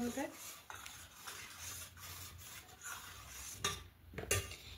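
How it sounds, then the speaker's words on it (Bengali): Shaped fish cutlets stirred through cornflour batter in a bowl, a steady wet scraping and clinking of a spoon against the dish, close and moderately loud, with no talking. "এবার এখানে কর্নফ্লাওয়ারের মধ্যে গুলে নেব, ভালো করে গুলে নেব।"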